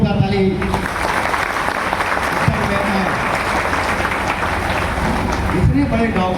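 An audience at an indoor business meeting breaks into loud, sustained applause, dense clapping that holds steady with a voice talking over it.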